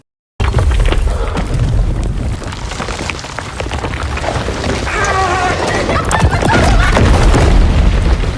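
A landslide roars down and seals off the only way out of a narrow crevice, a loud sustained rumble with crashing, shattering debris and booming impacts from start to finish.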